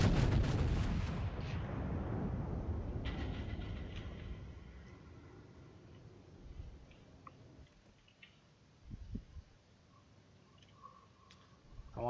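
Warship guns firing in World of Warships, a heavy booming salvo right at the start that rumbles and fades over several seconds, followed by faint scattered distant thuds and clicks.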